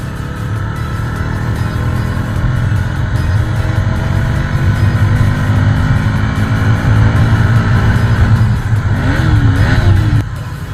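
An NS 200 motorcycle being ridden, picked up by the built-in mic of an SJCam 4000 action camera: a steady, loud engine drone with rumble and wind noise throughout, the revs audibly climbing and wavering near the end.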